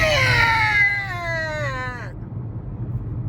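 A voice imitates a cat's meow, a single drawn-out, wavering mew that slides down in pitch and fades out, heard fairly close.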